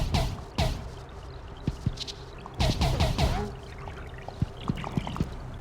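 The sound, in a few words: dripping goop in the video game Zordak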